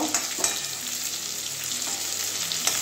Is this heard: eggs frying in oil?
yes